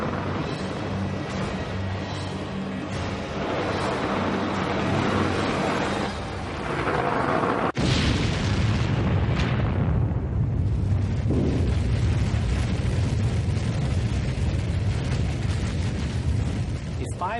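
Simulated explosion of a 500-kiloton nuclear warhead, a sustained roaring blast with a sharp burst midway followed by deep rumbling, heard beneath a narrating voice.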